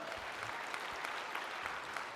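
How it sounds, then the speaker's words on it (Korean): Church congregation applauding during a Christmas sermon, a steady, fairly quiet wash of many hands clapping together without a break. "유튜브로 함께한 분들을 우리 향하여 박수 한번 해주시기 바랍니다."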